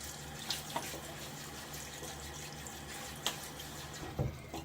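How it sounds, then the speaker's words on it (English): Cool, hard tap water runs steadily into a bathroom sink while a face is rinsed before a wet shave, with a few faint splashes and no talk. "I'm gonna rinse my face off."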